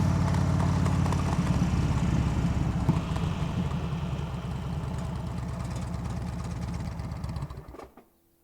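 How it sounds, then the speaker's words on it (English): A motorcycle engine idles and revs low and rumbling, pulling off briefly before slowing and cutting out at the end. "the motorcycle has to take off again and then almost immediately stop"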